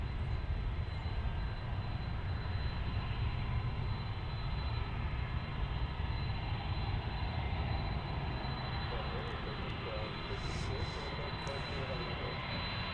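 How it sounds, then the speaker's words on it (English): An American Airlines Airbus A321 on its takeoff roll at Dallas Fort Worth airport, a steady, loud broadband jet engine roar that holds throughout, with faint voices talking in the background. "Our A321 going into the sky from American Airlines."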